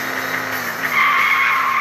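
A car skids with a loud, sustained tire squeal, sliding steadily and growing stronger toward the end, close by and heard alone.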